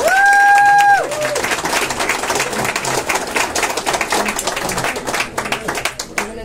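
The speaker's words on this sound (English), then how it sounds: "Give him a big round of applause." Audience at a city awards night in Toronto breaking into applause, dense rapid clapping near and loud after a brief tone at the start, gradually thinning out toward the end.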